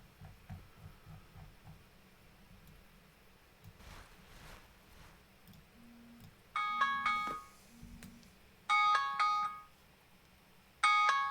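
Phone ringtone bursts out three times in short repeated melodic phrases, loud over quiet game background sounds, with a low steady tone heard earlier.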